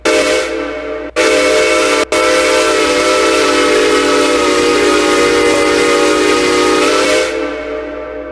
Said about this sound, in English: There is the main whistle for the locomotive.